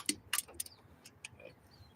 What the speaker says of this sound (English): God, I don't like these torque wrenches. I hear it clicking.